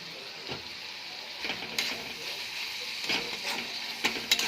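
Prawn curry with spice paste and ground turmeric, chilli and cumin fries in a pan, a soft sizzle broken by several scraping stirs, fairly quiet and without talk.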